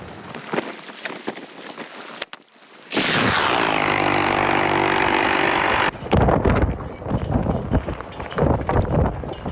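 A power saw cuts through a wooden rafter for a curved roof frame, a loud steady whining buzz for about three seconds in the middle, framed by gusty wind noise and handling sounds outdoors.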